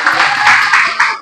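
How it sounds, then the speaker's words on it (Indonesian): A short burst of clapping from a class of students for a classmate, loud and close, with a few uneven rhythmic claps over about a second. "Tepuk tangan buat Mas Ragil."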